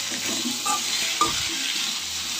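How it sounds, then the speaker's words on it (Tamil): Chopped chayote and onion with cumin sautéing in a pan for a curry, with a continuous close sizzle and a few clinks and scrapes from stirring; no speech. "காய் வெங்காயம் ரெண்டையும் போட்டு வதக்கிக்கலாம்."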